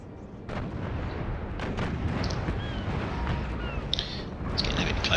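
Naval cannon fire in the Empire Total War game rumbles as a loud, continuous low boom of ship broadsides, with a few sharper cracks and splashes near the end.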